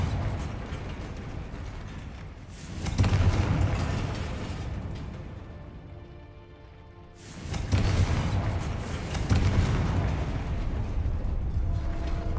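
Two heavy, roaring fire-spell blasts of Confringo in the Hogwarts Legacy video game, each a loud rumbling burst that swells and lingers for a few seconds with crackling debris.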